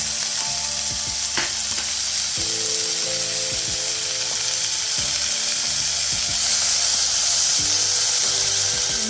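Two chopped tomatoes sizzle in a pan of hot coconut oil with garam masala, ginger, garlic, curry leaves and green chillies for a Kerala yam curry. A steady loud frying hiss runs throughout, with intermittent stirring clinks.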